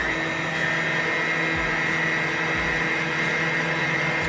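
A mixer steadily beats brownie batter in a bowl for a 1970s home economics recipe, a constant motor hum with a faint whir that holds steady throughout, with no voices.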